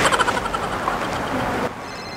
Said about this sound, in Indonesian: HP kakak bunyi ya?